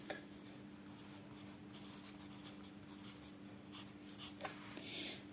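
Chalk or marker scratching across a classroom board during a Hindi lesson, soft, quick strokes and taps over faint room hum, with no talk.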